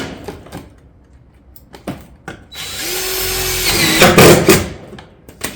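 Power drill driving fasteners into roof panels on a barrel vault tile roof, a loud close whir rising for a couple of seconds after scattered knocks and clicks.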